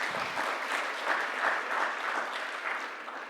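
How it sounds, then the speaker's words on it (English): An event audience applauds Sachin Tendulkar, a steady wash of clapping that fills the room and holds at an even level throughout, with no talk over it. "it's a big applause for you to have come here"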